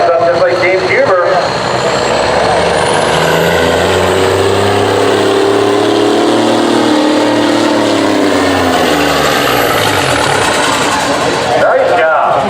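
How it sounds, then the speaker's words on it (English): A 1972 White semi truck roars under heavy load at a truck pull event, its engine revving up and holding a loud, sustained drone with rising and falling pitch, while a voice talks over it. "He's got to build the RPMs up just like James Huber."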